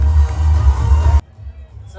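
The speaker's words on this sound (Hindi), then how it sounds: "अब आपकी तालियां होनी चाहिए फखर जमान के लिए" A large audience at a cricket team's kit launch ceremony cheers and applauds for Fakhar Zaman, a loud, dense roar of crowd noise that cuts off abruptly partway through.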